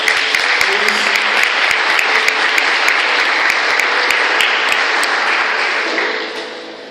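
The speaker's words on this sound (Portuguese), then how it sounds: "Aplauda o nome do Senhor Jesus Cristo." Loud, sustained applause from a church congregation, dense clapping that fills the room for several seconds before fading out at the end, with no speech over it.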